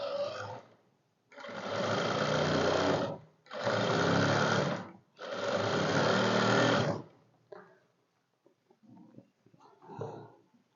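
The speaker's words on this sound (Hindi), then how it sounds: "जैसे ही हमने जिस तरीके से ट्रेस किया उसी तरह इसके ऊपर हमने सिलाई लगा लेनी है।" Sewing machine running in three long, steady, loud bursts while stitching around a traced round design on fabric, with short pauses between them, followed by quieter handling sounds.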